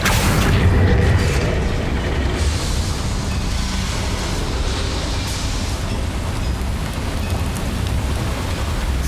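Confringo fire-blast spell explosions in the Hogwarts Legacy video game, a loud continuous rumbling roar of blasts and crackling debris that fills the whole stretch.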